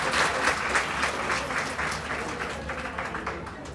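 An indoor audience at an International Women's Day function held by Maruti Garments claps for the garment company owners, a steady ripple of applause that runs the whole time and eases off slightly toward the end.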